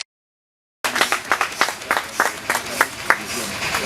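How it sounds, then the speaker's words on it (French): After a moment of silence, a small group at a Kananga ceremony claps in sharp, uneven bursts for gubernatorial candidate Célestin Sakanga as he receives a merit diploma. The claps are close and distinct, over a steady murmur of background noise. "nous allons applaudir"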